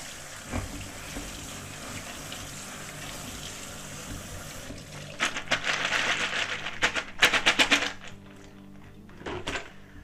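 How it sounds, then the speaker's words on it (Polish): Cooked snails are rinsed under a cold kitchen tap, running water splashing with a few clattering knocks against the sink, swelling louder for a couple of seconds near the middle before easing off. "Przepłukać zimną wodą."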